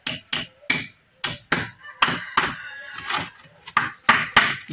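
Nail tips are hammered and bent over into wood, giving about a dozen sharp, close metallic-wooden knocks. The blows fall in irregular bursts with short pauses between them, and no voices are heard.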